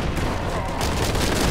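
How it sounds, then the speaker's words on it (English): Explosion in a video game: a dense, loud burst of booming, crackling noise that fills the whole moment without letup, with no talking over it. "Explosion."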